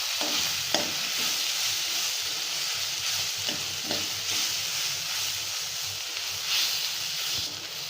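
Turmeric and chili powder fry in oil with a steady, loud sizzle and hiss, punctuated by scraping taps of a utensil stirring the pan up close.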